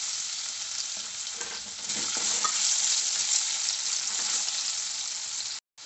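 Diced potatoes with turmeric fry steadily in hot oil, a dense, even sizzle with stirring scrapes mixed in, loud and close throughout, breaking off abruptly just before the end.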